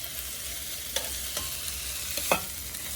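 Okra (bhindi) frying in a pan with a steady low sizzle, broken by a few sharp scraping clicks of a spoon stirring it, fairly faint and close.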